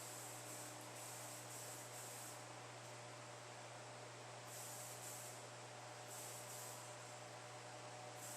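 A steady, faint hiss of aerosol spray coats a plastic front bumper of a 2011 Ford Taurus with adhesion promoter, the spray swelling slightly in short passes over a constant low background hum.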